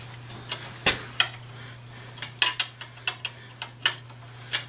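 Wrench ratcheting on a nut while fitting a new coil to a 1964 Evinrude outboard motor: a series of sharp, close metallic clicks at an uneven pace over a steady low hum, with no talking.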